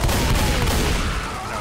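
Dense, loud gunfire from a Left 4 Dead 2 multiplayer firefight, a continuous barrage of shots blurring into a heavy roar with booming low end, close up and without clear talk.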